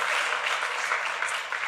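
Brief, steady applause from a talent show audience, a dense wash of clapping heard from some distance at moderate volume.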